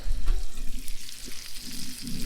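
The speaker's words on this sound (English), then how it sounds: "Oh, that's sizzling." Crappie and bluegill fish fry in a hot pan, giving a steady close sizzle and crackle with a few louder pops, and no talking.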